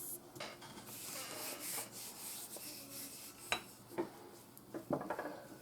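Croissant dough being rolled out on a mat in a home kitchen, faint repeated rubbing and rolling strokes with light scrapes and small knocks, quiet and close with no talk.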